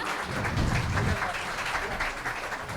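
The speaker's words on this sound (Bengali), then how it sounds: "একবার জোরে করতালি" Applause from a live audience at a Bengali poetry book launch, a broad crowd clapping that swells briefly and then continues steadily across the whole stretch.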